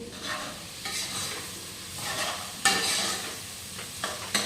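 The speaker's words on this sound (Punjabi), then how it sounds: "ਹੁਣ ਆਪਣੇ ਪਿਆਜ਼ ਨਾ ਚੰਗੀ ਤਰ੍ਹਾਂ 골ਡ ਬ੍ਰਾਊਨ ਹੋ ਗਏ ਨੇ" Onions frying golden brown in a pan for Punjabi kadhi, a steady soft sizzle with scraping stir strokes recurring every second or so.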